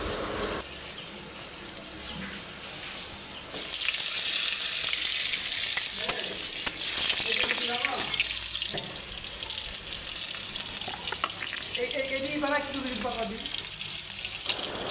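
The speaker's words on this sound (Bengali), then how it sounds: "তো এরপর আলু ও বেগুন ভেজে নেব।" Potatoes and eggplant fry in hot oil in a wok seasoned with cumin and bay leaf, a steady loud sizzle that swells after a few seconds and crackles on, with faint kitchen clatter alongside.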